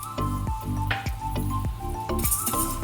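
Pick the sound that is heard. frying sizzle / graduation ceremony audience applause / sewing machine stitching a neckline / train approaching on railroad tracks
frying sizzle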